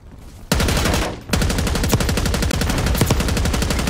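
Sustained rapid automatic gunfire in Call of Duty Black Ops 6, a loud, dense burst of repeated shots that breaks off briefly, then resumes at a steady fast rhythm.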